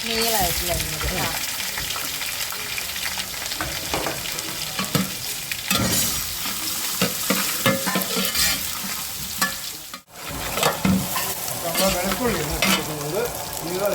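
Dried red chillies frying in oil for a ginger-mango pickle, with a loud, dense sizzle and constant stirring scrapes close up, and a brief dip near the end.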